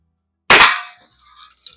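A nickel-plated low pivot bolt airgun with its original leather seal fires one sharp, loud shot, and the crack trails off quickly. Faint rustling handling noise follows.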